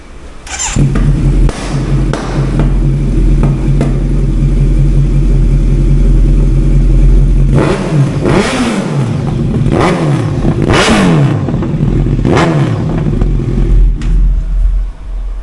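A late-2023 Kawasaki Z900 superbike fitted with an Arrow full exhaust system idles with a deep, loud, throaty rumble, then revs sharply several times in quick bursts that rise and drop back, recorded close by.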